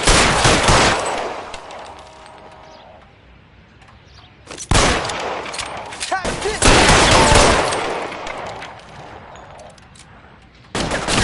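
Gunfire during a shootout in L.A. Noire: loud, close bursts of shots erupting in several separate volleys with quieter gaps between them.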